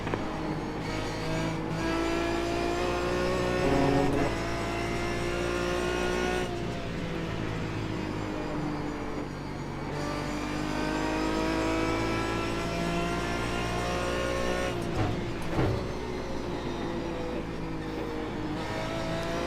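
An Aston Martin DBR9 race car at Mosport in iRacing, its engine droning loudly and steadily with rising and falling revs, brief dips at gear changes and a couple of sharper shifts, heard alone without talk.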